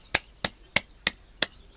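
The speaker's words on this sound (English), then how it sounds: "Let's give him a clap." A classroom of students claps for a classmate in five sharp, evenly spaced claps in unison. The claps are crisp and moderately loud with quiet gaps between them.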